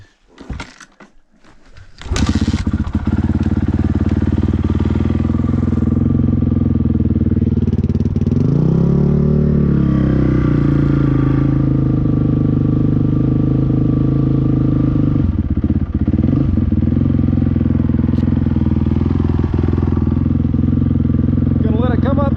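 A Honda CRF450R dirt bike starts after a few clunks and settles into a loud, steady idle for its first break-in run, with a brief rise in revs partway through.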